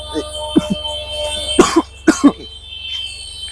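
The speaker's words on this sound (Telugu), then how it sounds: "ఇక్కడ ఏదో తుమ్ములు దగ్గులు కాంపిటీషన్ పెట్టినట్టు ఉంది" Several people cough and clear their throats in short bursts, some louder and nearer, others softer, amid a crowd in a place thick with pungent chilli fumes from Guntur spice, with a low steady background hum.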